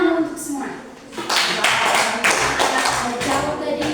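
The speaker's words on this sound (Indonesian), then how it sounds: "Oke, tepuk tangan untuk semua." Schoolchildren in a science classroom clap together, a cluster of sharp uneven claps close by, with a teacher's voice talking over the start.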